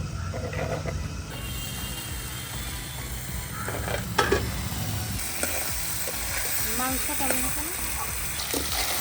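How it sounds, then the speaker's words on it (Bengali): Meat is stir-fried and sautéed in a pan at an outdoor village cooking spot, with a continuous hissing sizzle, occasional scraping stirs, and faint voices now and then. "ভালো করে কষে নেওয়া হচ্ছে।"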